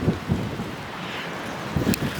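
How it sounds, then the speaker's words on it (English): Strong stormy wind gusts by the sea, sweeping sand along, with low rumbling buffets that swell at the start and again near the end, close and fairly faint. "It's so windy down here."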